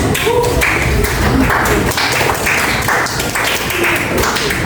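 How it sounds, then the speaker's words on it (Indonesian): A high school class in an Indonesian-language lesson breaks into dense, continuous applause, loud and close, lasting several seconds. "Tepuk tangan."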